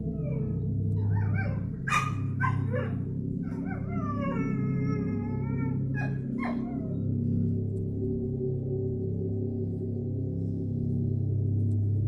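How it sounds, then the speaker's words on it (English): A dog barks in agitated bursts outside at night, sharp yips and whimpering cries spread over a few seconds, then fading against a low steady hum. "Carolyn is awakened by her dog's incessant and agitated barking"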